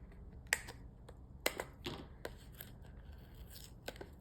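Scissors snipping through ribbon at a crafting table, a few sharp, quiet cuts spaced irregularly with faint rustling between them, close up and without speech.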